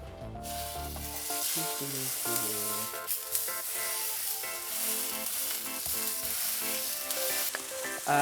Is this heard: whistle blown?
no